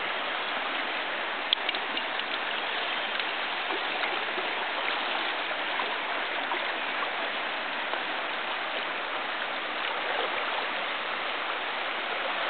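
A river stream where trout are being fished rushes steadily, producing a constant, even hiss of flowing water with no pauses.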